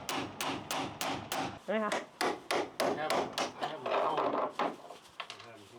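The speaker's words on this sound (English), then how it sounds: "We're just chiseling through this." A chisel is hammered through a van's factory floor in a rapid series of sharp, close strikes with scraping between blows, and a brief voice is heard partway through.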